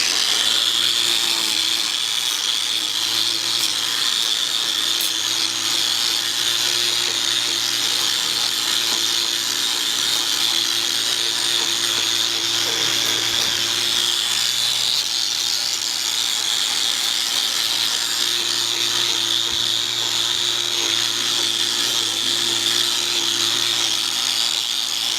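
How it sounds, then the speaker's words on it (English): An angle grinder works steadily against a metal panel, grinding a random swirl pattern: a loud, continuous high-pitched whine with a constant motor hum underneath, unbroken for the whole stretch and without talk. "We're just going to grind a random pattern on this piece right here"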